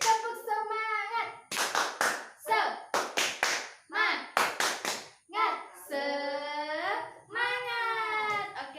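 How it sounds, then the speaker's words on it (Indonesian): A primary school class in a grade 6 social studies lesson does a rhythmic clapping chant, bursts of sharp claps alternating with children's chanted voices, loud and close, repeated several times. "Oke, tepuk semangat lagi yuk. Tepuk semangat."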